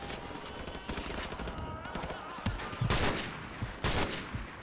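Gunfire rattles in a PC shooter game as repeated sharp shots and short bursts, moderately loud and irregular, with several heavier cracks toward the end.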